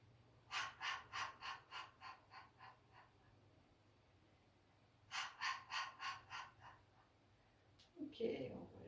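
Short, rhythmic exhalations during a Do-in breathing and stretching exercise, in two series of about six or seven puffs separated by a quiet gap, soft and close, followed by a brief rustle.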